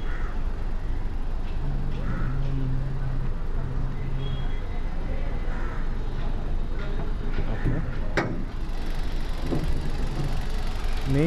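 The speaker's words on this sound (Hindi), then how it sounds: "मेन चीज़ आपको चेक करनी है आपका इंजन का आवाज़।" A new car's engine idles during a pre-delivery inspection, a low steady hum heard quietly and continuously with a brief click partway through.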